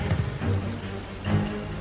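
Rain falls heavily in an audio drama, a dense, continuous hiss of drops hitting a surface with low rumbling swells, moderately loud, and no voices.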